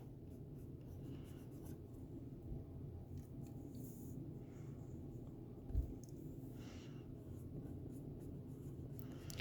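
Pen on paper writes out a math expression by hand, faint scratchy strokes under a low steady room hum, with one soft tap partway through.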